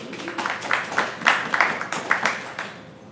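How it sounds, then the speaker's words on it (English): Audience applause at a tech talk on architecture and Azure API Management, with a run of bursty clapping peaks at moderate volume that tapers off toward the end. "Round of applause."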